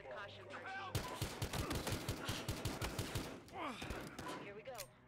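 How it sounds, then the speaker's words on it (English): Rapid bursts of automatic gunfire and shots rattle loudly in the video game Battlefield Hardline, a dense volley of repeated cracks with brief voice-like sounds around it. "We've got gunshots."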